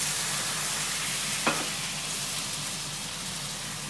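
A pan of browned almonds sizzles hard as white wine hits it, a loud, dense, hissing fry with one sharp splash-like crackle partway through, then an even sizzle.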